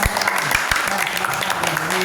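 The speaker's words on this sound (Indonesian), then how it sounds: "tepuk tangan yang meriah untuk" Students in a classroom applaud enthusiastically after a group presentation in an Islamic religious education lesson, dense clapping with voices mixed in throughout.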